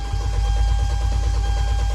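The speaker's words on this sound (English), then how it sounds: "So this is what it's going to sound like if you pull the fuses correctly." A Hyundai Genesis Coupe 2.0T turbo engine cranks over on the starter with its fuses pulled so it cannot fire, a steady close low churning rhythm with no catch, no talk.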